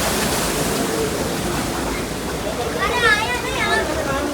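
Stream water flows in a steady, broad rushing wash close by, with a person's voice briefly audible over it toward the end.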